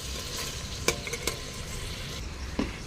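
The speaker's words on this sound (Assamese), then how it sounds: "মাংসখিনি এতিয়া ভাজি আছো ৰঙা আগবিলাক ভাজি থাকিম" Meat fries in a pan while being stirred for a home biryani, a constant close sizzle broken by a few sharp scrapes and clinks of the spoon against the pan.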